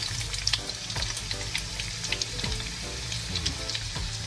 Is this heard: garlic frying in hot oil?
yes